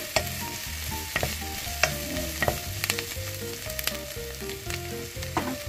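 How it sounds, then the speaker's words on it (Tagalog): Garlic sizzles steadily in hot cooking oil in a pan, a close, continuous crackle broken by repeated sharp clicks and taps of a stirring utensil, with no talking. "mainit na ang mantika, ilagay na natin ang bawang"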